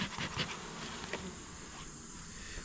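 Caucasian honey bees buzz steadily at the landing board of a hive during an inspection, a dense continuous drone close by with a few louder passes near the start and no talking.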